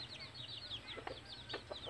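A captured talisayin labuyo, a red junglefowl, gives a series of soft, rapid clucks and short chirps close by, quiet and uneven in rhythm.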